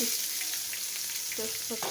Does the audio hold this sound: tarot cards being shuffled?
no